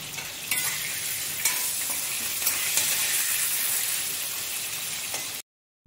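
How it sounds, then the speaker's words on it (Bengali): Bitter gourd and vegetables sputter in hot oil, a loud, close, continuous sizzle and crackle that cuts off abruptly near the end. "করলা এগুলো সব ভেজে নেব"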